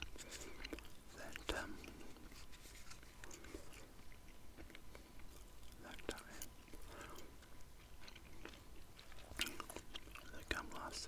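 Soft, close gum chewing with small wet clicks and crunches under quiet whispering, slow and continuous throughout.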